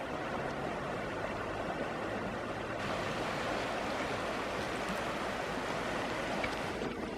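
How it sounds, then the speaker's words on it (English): Water flows steadily over rocks in a creek, a continuous, fairly close rushing and babbling wash that runs without a break, with no talk over it. "Love the sound of the water."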